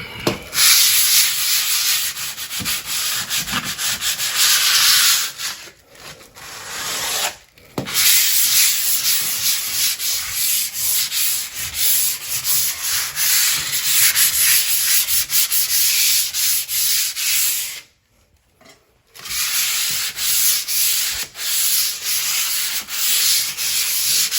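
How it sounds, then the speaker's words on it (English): Steady, continuous abrasive rubbing of sandpaper lightly over smooth drywall compound, close up, with two brief pauses partway through. "what I like to do is I do a light sanding"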